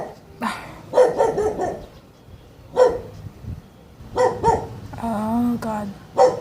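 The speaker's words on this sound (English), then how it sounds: "Dog!" A dog barks in several short, sharp bursts spread across a few seconds, fairly close, with a voice briefly speaking between the barks.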